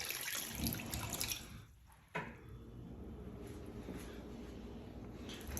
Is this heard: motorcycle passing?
no